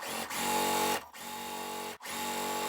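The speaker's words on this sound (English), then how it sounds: "I've sewn this first part together and I pressed open as much as I could." Sewing machine running steadily as it stitches quilt block pieces, a continuous mechanical whir broken by two brief pauses, close and fairly loud with no talking.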